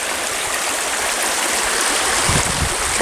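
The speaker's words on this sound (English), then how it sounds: "Walking up the creek behind camp." A creek flows steadily behind a camp, a dense, continuous rushing of water close by with no talk over it.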